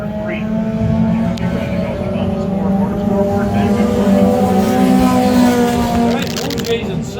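Race cars roar around the Can-Am Speedway oval during heat races, a loud, steady engine drone that rises and falls slightly as the pack runs through the turn, with an announcer talking over it throughout.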